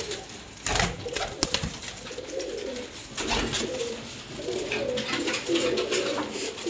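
Pigeons coo in a row of soft, rounded calls close by, with light outdoor rustle and a few wing flaps, and no talking.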